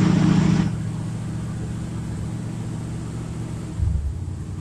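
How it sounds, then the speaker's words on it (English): A 1978 Chevrolet C10 Stepside truck with a 307/350 V8 idling after a cold start, a steady low rumble that drops from a louder burst at the start and briefly lifts again near the end. "Let's see if it'll run. Yeah, I think it'll idle now."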